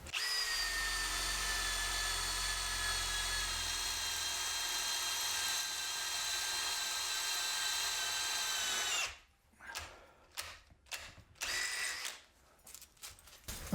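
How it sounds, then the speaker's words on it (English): Makita black cordless drill boring into aluminium, a steady high whine for about nine seconds before it stops, followed by several short bursts of the motor starting and stopping. "that's where you'd want to drill aluminium"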